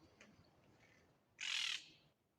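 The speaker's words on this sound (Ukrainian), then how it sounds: "Тут багато зелених попугаїв. Стаями літають." Green parrots, part of a flock, give a single loud, harsh squawk lasting about half a second against a quiet outdoor background, with no talking.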